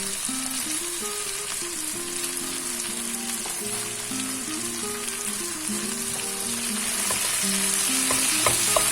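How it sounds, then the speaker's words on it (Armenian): Meat fries with freshly chopped herbs in a pan, a constant close sizzle with intermittent stirring scrapes that grows slightly louder toward the end, and no voices. "Գրեթե պատրաստ է միսը, այ հիմա ավելացնում ենք կանաչին։"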